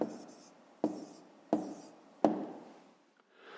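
A pen writes down a math answer on paper: four crisp taps, each followed by a short scratching stroke, close and quiet with no talk.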